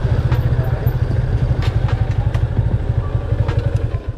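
A motorcycle engine runs close by with a loud, rapid, steady thumping putter, continuous throughout with no talk.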